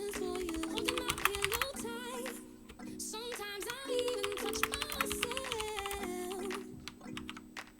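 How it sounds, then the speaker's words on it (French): Steady typing on a SteelSeries Apex M500 mechanical keyboard with linear Cherry MX Red switches: soft, rapid, fairly quiet keystrokes over a tonal musical background. "les claviers sont équipés de switches Cherry MX Red qui sont personnellement mes switches favoris, ils offrent une pression légère et une activation linéaire"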